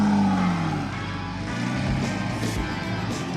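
A Lamborghini Murcielago V12 engine revs loud and close, a falling roar that settles into a steady rumble, with no talk over it.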